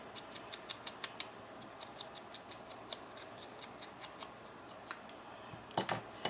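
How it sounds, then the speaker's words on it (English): Scissors snip steadily around a paper cut-out for a junk journal pocket tag, a quick, even run of close, crisp clicks repeating for several seconds with no talking. "Now I got to trim it a little bit closer."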